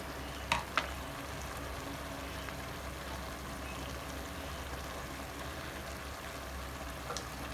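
Vegan gluten-free noodles fry in a hot pan on high heat, giving a steady, even sizzle with a couple of sharp clinks near the start and a faint one near the end.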